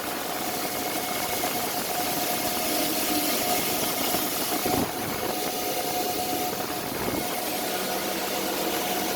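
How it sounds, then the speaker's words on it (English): Cooling fans on A2000 crypto mining rigs, a loud, constant broadband whoosh with a steady tonal hum, unbroken and close, with no talk. "All the fans are spinning."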